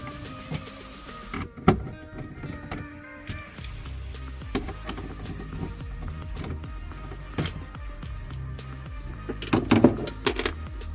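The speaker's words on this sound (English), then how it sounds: "Using a T25 Torx bit, go ahead and remove the 4 screws holding the ECU." A T25 Torx bit driver whirs in short bursts as four screws come out of the ECU on a Polaris General UTV, with a few sharp clicks and knocks between runs, close and fairly quiet.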